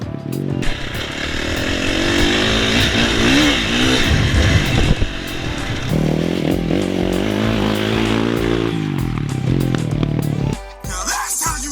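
Dirt bike engine revving hard through a jump, a loud sustained motor roar with rising and falling pitch as the throttle is held steady up the face, cutting off abruptly near the end.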